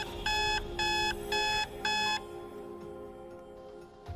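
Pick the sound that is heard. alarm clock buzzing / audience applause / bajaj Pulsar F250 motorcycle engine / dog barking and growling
alarm clock buzzing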